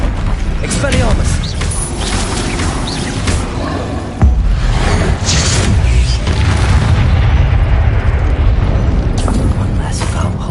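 Bombarda blasting spell in the video game Hogwarts Legacy during a fight against a hulking brute: loud booming explosions with a sharp hit midway and a continuous rumbling battle din, with speech mixed in.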